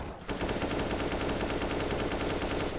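Sustained automatic gunfire in a Counter-Strike-style shooter, a rapid continuous burst that begins after a brief pause and carries on loud and close to the end.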